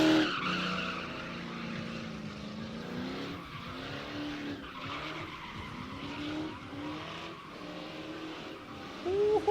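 Drift car at a drift pit skidding hard, with continuous loud tire squeal and a revving engine whose pitch rises and falls throughout, sustained and close.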